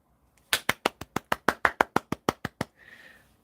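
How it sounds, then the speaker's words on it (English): A single person clapping hands about fourteen times in a quick, steady rhythm close to the microphone, sharp and distinct, followed by a brief soft rustle. "It's my claps for you."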